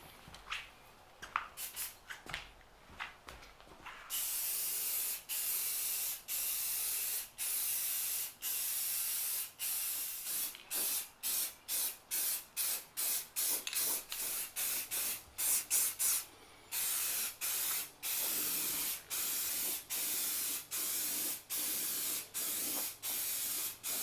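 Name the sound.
spray painting with Rust-Oleum matte black high heat paint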